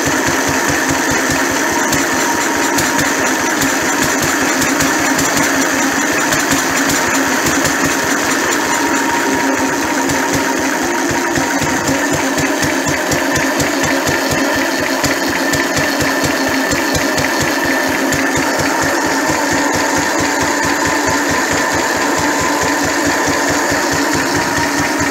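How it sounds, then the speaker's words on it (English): A Lister D single-cylinder diesel engine idles steadily and close by, its rapid even thumping beat running unbroken with no one speaking. "Listen to how nice it idle."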